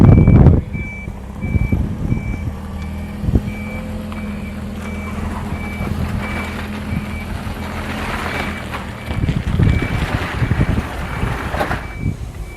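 A forklift's reversing alarm beeps in a steady, evenly spaced series during a truck delivery of parts, heard outdoors over wind noise and rumbling engine sounds.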